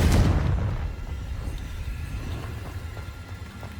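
A Confringo blasting spell explodes in Hogwarts Legacy with a sharp loud boom at the start, then a decaying rumble and scattered small crackles over a few seconds.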